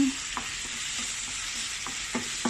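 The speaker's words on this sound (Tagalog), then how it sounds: "magdagdag tayo ang tomato paste halu-haluin lang natin" Tomato paste is stirred in a frying pan over a steady sizzle, with light rhythmic scrapes of the utensil repeating at close range and no voices.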